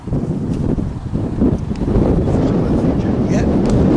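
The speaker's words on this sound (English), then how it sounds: "it's really windy out here" Strong outdoor wind buffets the microphone in a low, continuous rumble that swells louder midway and holds, with a voice faintly in the background beside a tree being cut for wood.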